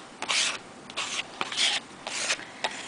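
A card scrapes layers of acrylic paint across an art journal page, making a rhythmic series of close, rasping strokes, each about half a second long, repeated five times without pause for talk.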